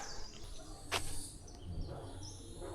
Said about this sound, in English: I can hear birds and nature and hardly any sounds from the city